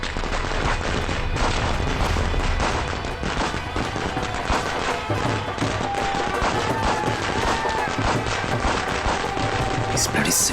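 Firecrackers set off for a wedding celebration in a Crime Patrol TV drama scene crackle and pop in a loud, unbroken barrage of rapid bursts lasting the whole stretch, with voices faintly mixed in.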